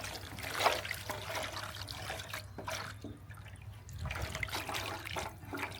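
Water is poured over country chicken meat to wash it, running and trickling steadily for several seconds at a moderate level, close by, with no talk.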